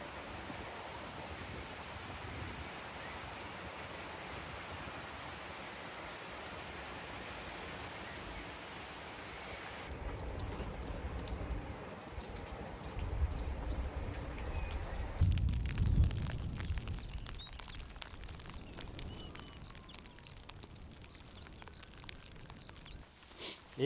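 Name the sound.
rain falling in a village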